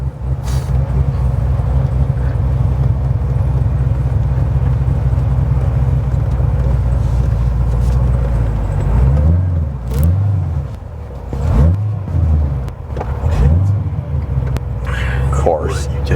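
A 2009 Corvette ZR1 making over 750 wheel horsepower rumbles loudly while driving, with deep rising and falling revs in the second half, and people talk quietly over the engine.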